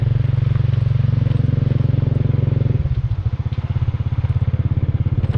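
Motorbike climbing a steep, rough hill road in the countryside, its engine chugging loud and close with a steady pulsing beat, then shifting to a lower, lumpier putter partway through, with no talking.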